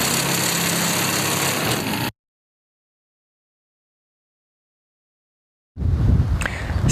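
An aircraft piston engine with a propeller starts by self-ignition even though its ignition is switched off. A loud, steady engine rumble runs for about two seconds, cuts to silence, then returns just as loud and rough.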